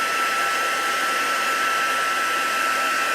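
A hair dryer blows on an embossed card coated with antiquing cream, a continuous, loud, high-pitched whirring hiss that runs steadily without a break.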